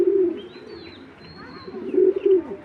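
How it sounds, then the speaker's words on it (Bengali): Racing pigeons coo close by in soft, low, throaty bursts at the start and again near the end, with a faint chirp between them and no talking. "এগুলো হলো আপনার রেজাল্ট করা কবুতর"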